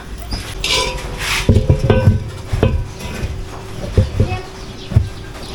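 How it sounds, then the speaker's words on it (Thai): Metallic clinks and clanks as nuts are turned and tightened on the steel front wheel rim of a walk-behind tractor, irregular knocks of a wrench, close up over low background noise. "หลังจากนั้นก็เอากระทะ อีกฝั่งหนึ่งมาใส่แล้วขันน็อต"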